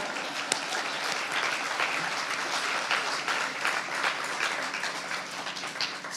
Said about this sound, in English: everybody should be clapping right now